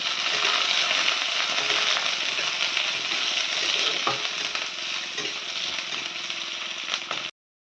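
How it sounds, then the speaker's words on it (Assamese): Steady, loud sizzling of onions frying in a pan for a mushroom dish, a dense crackling hiss that continues throughout and stops abruptly at the end. "পিঁয়াজ দিয়া অলপ সময় ভাজিয়া দিম মাছৰুমখিনি।"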